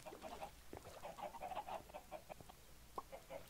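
Chickens in a block-building video game, giving faint repeated short clucks at an irregular rhythm over a low background hiss.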